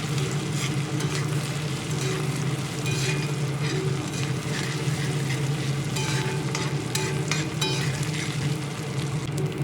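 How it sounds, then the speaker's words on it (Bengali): Chopped onion and ginger-garlic paste fry and get stirred in a pan for a mackerel curry, with a steady, close sizzle running unbroken throughout and no voices. "এবার এর মধ্যে আদা রসুনের পেস্ট দিয়ে ভালোভাবে নেড়ে চেড়ে আদা রসুনের গন্ধ দূর করে নেব।"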